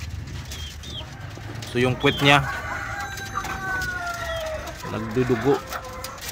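A hen gives a few short clucking bursts, moderately close, under someone talking steadily over faint farmyard background noise.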